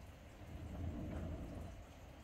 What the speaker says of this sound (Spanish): Igual en Oaxaca está lloviendo